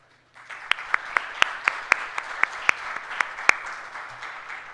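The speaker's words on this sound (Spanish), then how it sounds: "Por favor, démosle un fuerte aplauso a Agustín y Camila." Conference audience applause for speakers Agustín and Camila at the IX FOCAL event, a modest crowd clapping with a dozen or so sharp, evenly spaced claps standing out close to the microphone.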